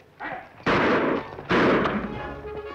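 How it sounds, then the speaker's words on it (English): Two loud gunshots ring out in a 1950s Western television episode, each a sharp blast with a rolling echo, spaced under a second apart after a faint lead-in. "Shots came from that direction."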